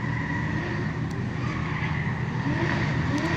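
Nissan S-chassis drift cars, S13, S14 and S15, running at a drift practice day, a steady, fairly quiet engine drone at mid distance with a faint rise in pitch toward the end.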